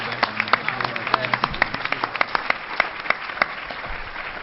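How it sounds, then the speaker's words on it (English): An audience at a regional civic league event claps steadily, a dense patter of many hands applauding at moderate volume for several seconds. "let's give our presenter and panelists a round of applause"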